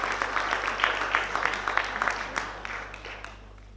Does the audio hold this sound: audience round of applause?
yes